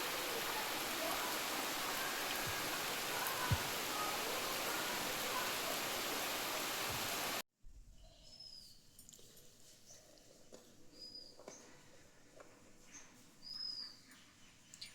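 Rain falls steadily as a dense, even hiss for the first half, then gives way to a much quieter stretch with faint background sounds and occasional bird-like chirps.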